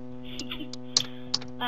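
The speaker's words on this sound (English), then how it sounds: "I'm taking the time to type this in." Quick computer keyboard typing of a Skype message, a short run of light clicks and key taps over a steady electronic hum.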